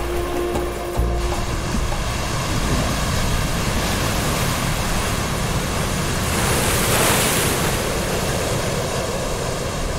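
High waves roll over the foggy Sea of Okhotsk, a broad, constant roar of surf filling the scene for ten seconds, with a brief tonal hum at the start before the wash takes over.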